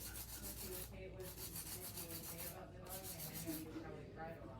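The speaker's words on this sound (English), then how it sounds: "this is my 100 grit filer" A 100 grit nail file rasps back and forth across an acrylic nail in steady, quick strokes, a close, soft scratching rub with short pauses between passes.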